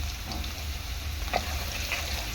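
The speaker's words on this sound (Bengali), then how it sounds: "লালচে লালচে করে ভেজে নেব" Potato and paneer pieces fry in a pan of oil for an aloo paneer dish, giving a steady, even sizzle with no talking.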